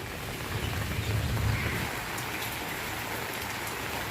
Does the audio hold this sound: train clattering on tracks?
no